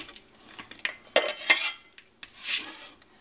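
Chopped onion for risotto goes into a pot with a scatter of clattering metal knocks and scrapes, several sharp clanks and rustles of utensil against cookware, close by and without speech.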